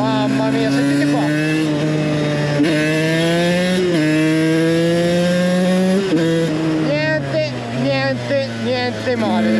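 A 2006 TM 125 two-stroke motorcycle with its original exhaust revs hard and near, a buzzing engine note rising and dropping in repeated blips, sharper and choppier toward the end.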